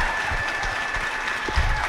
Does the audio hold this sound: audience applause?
yes